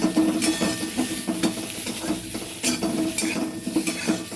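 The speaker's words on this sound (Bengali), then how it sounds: "অল্প একটু 1 চিমটে হলুদ দিয়ে এটাকে বেশিক্ষণ নাড়ব।" Amra masoor dal with salt and a pinch of turmeric being stirred in a pan, a spoon scraping and clinking against the metal in a steady rhythm over a soft sizzle, close and clear.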